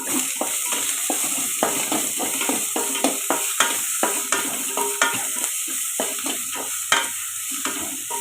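Onion sizzling and frying in a pan with coriander and asafoetida, with steady crackling and repeated stirring scrapes throughout, close and moderately loud, no talk.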